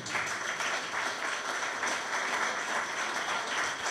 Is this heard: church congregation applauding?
yes